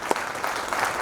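Audience at an Indian American community event applauding to welcome Dr. Sudhanshu Trivedi, a short burst of dense, steady clapping from a crowd.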